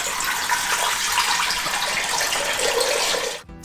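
Water pouring steadily from a tap to make a mixture of water, salt and sugar for scalding ducks, a loud continuous gushing rush that stops abruptly near the end, with no talk over it.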